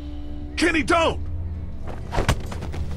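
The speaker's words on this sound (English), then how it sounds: "Oh shit, that gunshot." A gunshot rings out in The Walking Dead video game, a sharp crack with a thumping tail, heard just after someone shouts in alarm over a low background hum.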